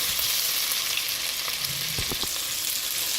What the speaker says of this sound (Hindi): 1 मिनट हमने अदरक लहसुन को भून लिया है